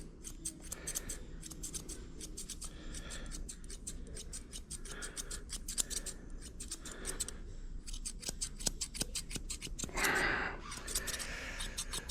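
Grooming scissors trim a poodle's coat in a steady run of quick, crisp snips, close and clear, with short pauses between bursts and no talking.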